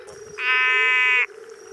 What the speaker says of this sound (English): So there's a few different species of frogs there.